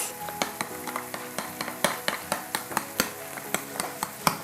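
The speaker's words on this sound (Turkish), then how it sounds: "Çırparak karıştırmaya devam ediyoruz." Yogurt is whisked into a mixture for mutabbal, the whisk tapping the bowl in quick, fairly regular strokes close by, with no talking.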